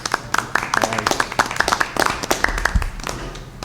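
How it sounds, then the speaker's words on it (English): A small audience at a Rutherford Board of Education meeting claps after a board appointment, with sparse, distinct hand claps in an uneven rhythm and a low thump partway through. "He gets a round of applause."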